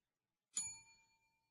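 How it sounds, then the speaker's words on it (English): A single bright bell ding rings out on a radio show, struck once with a clear metallic ring that decays over about a second in otherwise silence. "There we have the campaign bell."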